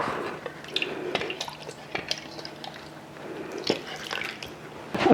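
Water splashes and drips while a container is rinsed and dishes clink against each other, with intermittent rinsing sounds and bursts of clatter close by, in a kitchen making kimchi.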